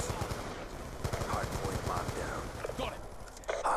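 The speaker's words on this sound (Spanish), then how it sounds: "Yo le estoy disparando, ustedes vieron que estoy disparando." Rapid automatic gunfire from the video game Call of Duty Black Ops 2 rattles in dense bursts, a faint voice buried beneath the shooting.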